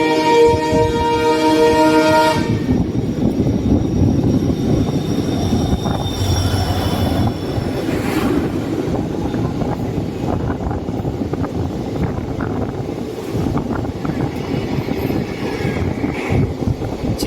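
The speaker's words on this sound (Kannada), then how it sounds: "ಟ್ರೈನ್ ಈಗ ಚಿಕ್ಕ ಭಾನುವಾರ ಸ್ಕಿಪ್ ಮಾಡಾಕತ್ತೈತೆ ನೋಡ್ರಿ." A Bengaluru–Talaguppa intercity passenger train rolls past a small station in the rain, its steady wheel rumble and rail noise continuous and close throughout, with wind buffeting the microphone and a brief high tonal whine at the start.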